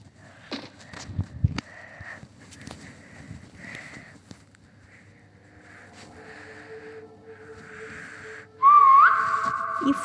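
Someone whistles a wandering tune in SCP 3008, mixed with soft in-game footsteps and ambience, ending in a louder rising whistle and sustained tone.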